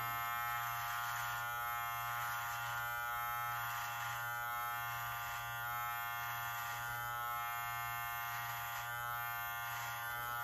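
A Live Bearded MT-1 electric beard trimmer running on a medium-length beard, giving a constant close, loud motor buzz with a strong low hum that holds steady throughout, with no speech.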